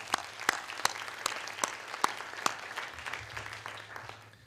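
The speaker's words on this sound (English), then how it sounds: "let's give them a round of applause anyway" Sparse applause from a moot court final round audience, scattered sharp claps at a steady pace, fairly quiet and thinning out toward the end.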